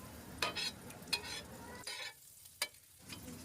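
Butter sizzling on a hot dosa griddle for a bread omelette, a soft steady frying hiss broken by a few short bright bursts of stirring and scraping, fairly faint and close with no talking.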